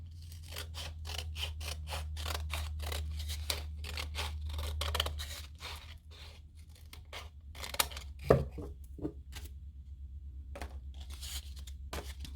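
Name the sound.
trimming paper with scissors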